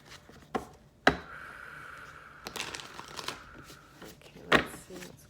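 A deck of reading cards is shuffled by hand, sharp riffling bursts and soft sliding rustles recurring several times at close range with quiet handling noise between them.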